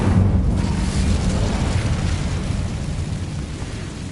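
The Incendio fire spell in Hogwarts Legacy on PS5 roars out as a loud, rumbling whoosh of flame that bursts at the start and slowly fades over several seconds, with no talk.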